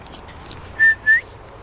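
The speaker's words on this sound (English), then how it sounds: "I'll have a whistle." A person gives two short, clear whistles beside a canal in the Cotswolds near Stroud to call moorhens and coots. The two notes come in quick succession over a quiet outdoor background, with no talking.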